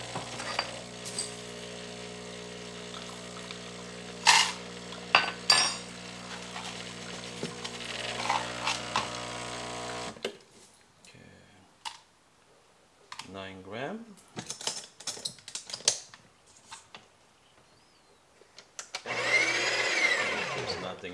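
A Breville Barista Express burr grinder grinds LaVazza Rossa espresso beans in a steady, loud whirring drone for about ten seconds and then stops, followed by lighter clicks, taps and handling noises, and another short mechanical whir near the end.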